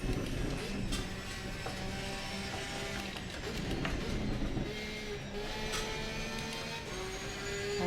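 An Audi race car in Assetto Corsa Competizione drives around a track, a steady, fairly faint engine drone with shifting pitch and small mechanical rattles, continuous throughout.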